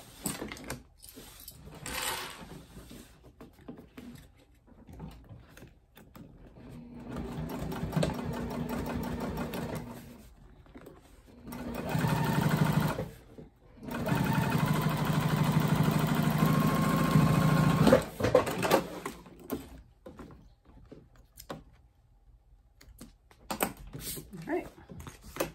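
A sewing machine top-stitches folded cork fabric in several bursts of steady mechanical whirring and clatter, pausing between runs, with quieter handling noises and brief talk in the gaps.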